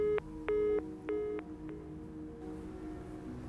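Telephone beeps sound as a phone call is hung up, three or four evenly spaced electronic tones, clear and near, then a faint hum lingers with no talking.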